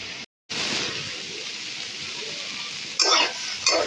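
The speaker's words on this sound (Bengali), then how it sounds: "ভালো করে নেড়ে চেড়ে এগুলোকে একটু কষিয়ে নেব" Vegetable curry cooks in a wok with a continuous sizzle after a brief gap, and a few scraping stirs sound near the end.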